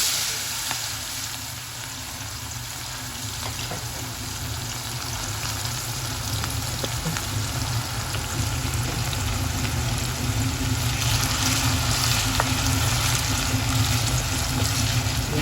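A pan of food fries steadily, a loud close sizzle with bubbling and occasional stirring clicks that swells slightly over time, no speech.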